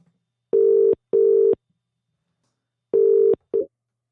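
Telephone dialing tones: two short steady beeps, a pause, then another beep and a brief clipped one, clear and close in otherwise silence.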